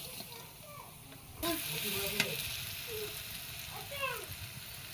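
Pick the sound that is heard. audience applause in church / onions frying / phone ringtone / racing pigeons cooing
onions frying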